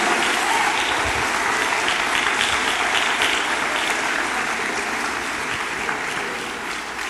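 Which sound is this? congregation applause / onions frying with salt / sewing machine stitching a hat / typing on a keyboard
congregation applause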